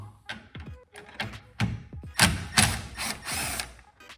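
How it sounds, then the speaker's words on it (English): A power drill whirs in short close bursts while replacing a battery in a 2017 Honda Accord V6, a few quick spins and then longer runs, with clicks and handling knocks between them. "Alright, we got the drill now."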